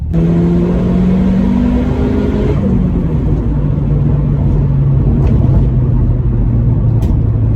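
A modified Vauxhall Astra VXR van drives with a loud, steady engine rumble and rising harmonic tones, as though it is accelerating through the gears, heard close up from inside the cabin without any talk.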